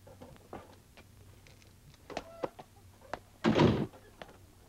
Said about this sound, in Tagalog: Buksan mo ang pinto.